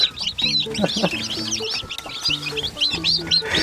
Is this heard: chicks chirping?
yes